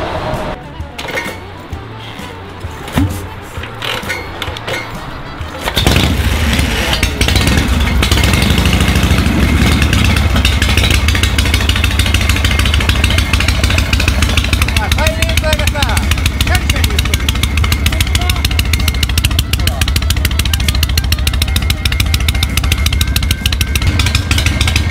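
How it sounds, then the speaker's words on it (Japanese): A Harley-Davidson Shovelhead motorcycle engine fires up after a few seconds of light metallic clinks, then settles into a loud, steady, close idle with a low rumble that holds to the end. "エンジンかかるかな。"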